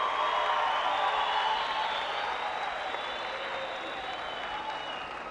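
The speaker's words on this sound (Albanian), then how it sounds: "do doja tani që të bëni një duartrokitje të fundit për tërë këngëtarët konkurrues finalist" Sustained applause from a concert audience at a televised song festival finale for the competing singers, a dense, even wash of clapping that fades slightly toward the end.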